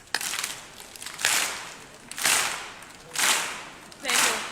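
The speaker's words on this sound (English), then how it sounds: "can we get like a single clap going, like this?" Graduation ceremony audience clapping in unison, four or five loud, sharp single claps at roughly one-second intervals, each with a short room echo.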